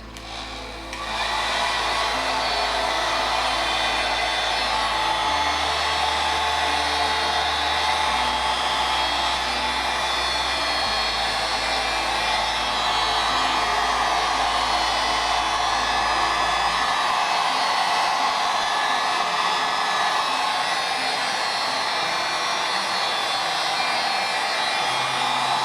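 A hair dryer blows steadily and loudly on airbrushed paint on a high-speed wahoo fishing lure, a constant whooshing hum with a brief low-pitch change partway through.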